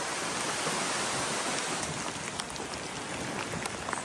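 Steady rain falling on a farm, a dense even hiss of drops on surfaces with occasional closer patters, continuous and moderately loud with no voices.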